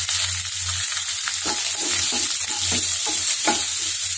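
Onions, shallots and tomato fry in hot oil with dried red chillies and curry leaves for a bitter gourd coconut milk curry, giving a steady close sizzle broken by several scraping stirs of a spoon against the pan.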